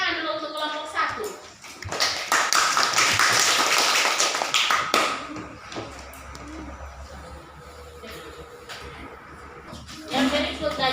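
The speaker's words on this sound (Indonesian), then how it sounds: "kita tepuk tangan dulu untuk kelompok 1" Audience applause for the first group at a classroom teaching-practice session, a broad crackling clatter of clapping hands that swells, fades under a speaking voice, then briefly returns at the end.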